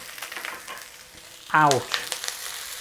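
Beef stir-frying in a pan, a soft continuous sizzle with light stirring, broken by a brief sharp squeal-like scrape near the middle.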